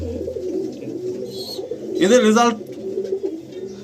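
Pigeons coo low and steadily in a Dakhineswar loft of breeder pigeons, heard up close, while a person speaks briefly over the middle of the sound.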